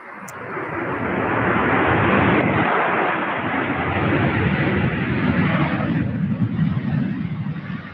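An airplane landing at Louisville airport gives a loud, sustained jet roar that swells early and stays powerful and near, with no talk over it.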